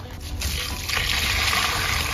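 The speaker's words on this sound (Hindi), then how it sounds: "मम्मी उसको पानी डाल रहे है।" Water is poured onto a potted tulsi plant, giving a continuous close splashing trickle that holds steady throughout with no voices.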